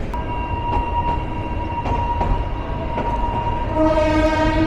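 A Karnaphuli commuter train runs with steady rumbling rail noise, its horn sounding as sustained tonal blasts throughout and swelling louder near the end.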